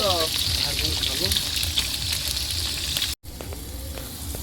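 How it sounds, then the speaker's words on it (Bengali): Onions fry in a pan over an outdoor cooking fire by a river, giving a steady, close hiss and crackle of sizzling oil throughout, briefly cut off near the end. "বন্ধুরা আমাদের ছালের পেঁয়াজ ভাজা হচ্ছে দেখো"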